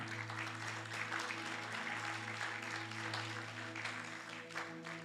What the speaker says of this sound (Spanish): Dele palmas fuertes al Señor, hermano.